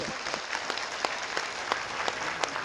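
A crowd at a Sahariya tribal gathering in Gwalior breaks into sustained applause, dense clapping with sharper individual claps standing out, continuous and fairly close for a few seconds.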